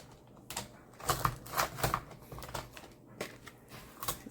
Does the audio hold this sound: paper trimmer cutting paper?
yes